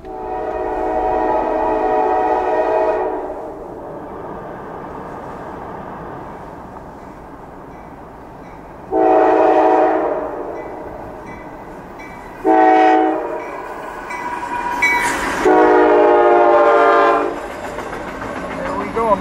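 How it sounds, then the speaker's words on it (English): A Norfolk Southern freight train passes a level crossing with the gates down, its horn blasting loudly several times in long and short blasts over the steady rumble of the rolling train. "Gates are down, train is coming"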